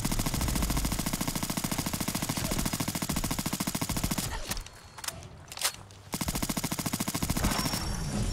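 An NIArms HK416 rifle rattles off long, rapid automatic bursts in Fallout 4, loud and close, pausing briefly midway before firing resumes.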